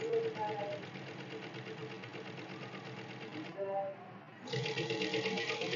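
Sewing machine stitching a men's kurta in a steady, rapid mechanical chatter that runs almost continuously, with a brief slowdown before resuming at full speed.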